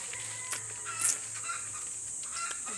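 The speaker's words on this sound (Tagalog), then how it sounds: "ang ingay ng manok" A chicken clucks a few times in the distance over a steady high hiss, faint and intermittent.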